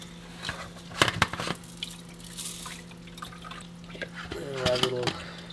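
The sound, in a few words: pouring salt water into fluidized media reactor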